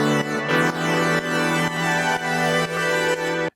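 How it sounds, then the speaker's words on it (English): Sustained Afro house synth chords played without a volume-pumping LFO effect, a steady layered harmonic pad restruck in even blocks about every half second for several bars, bright and loud with no voices. "So if you listen to these chords without LFO tool, it sounds like this."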